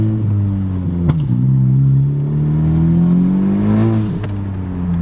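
A turbocharged 10th-generation Honda Civic Si engine with cold air intake, downpipe and muffler delete idles loudly and rises in pitch as it revs up and settles, with a whooshing intake sound and a couple of sharp clicks.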